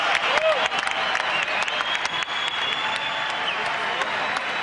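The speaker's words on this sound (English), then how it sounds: "A round of applause for these two" Sustained applause from a boxing arena crowd after two 126-pound fighters are introduced, dense steady clapping filling the hall at full volume with scattered sharper claps throughout.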